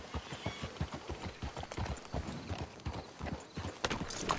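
Horse hooves in Red Dead Redemption 2 clip-clop in a steady rapid rhythm, close and loud, amid outdoor game ambience.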